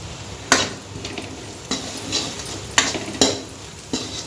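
Pasta seasoned with salt and chili powder is stirred in a pan, with a few sharp scraping and clinking strokes of a utensil over a soft, steady sizzle, close and without speech.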